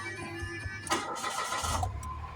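A Mitsubishi Mirage G4 with a check-engine fault and rough-running engine cranks over and catches, its starter whir and ignition rising into a shaky idle, recorded close up with no talking.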